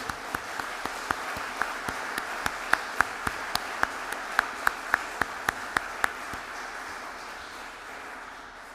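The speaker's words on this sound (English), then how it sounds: "I will encourage you to applaud" A conference audience at a closing session applauds in tribute, with a few loud, distinct claps standing out over a softer, moderately paced patter that thins out and fades toward the end.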